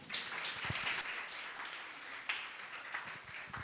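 A church congregation applauds as the pastor is welcomed, a steady wash of many hands clapping heard from a distance at low volume, with no speech over it.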